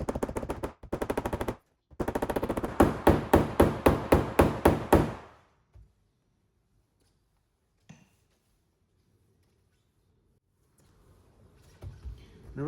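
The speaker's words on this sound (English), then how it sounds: "lift up the area above the body line where I'm tapping now, and then I can tap this area down." A car body panel is tapped during paintless dent removal, with rapid, loud, evenly spaced metallic taps in close bursts that fade out, followed by near silence and a faint knock.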